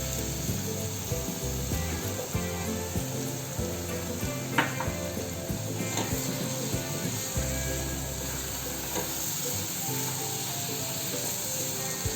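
Wheat flour sheera with sugar cooks in a pan, giving a steady, soft sizzle that runs continuously at an even level, with faint stirring noises in places.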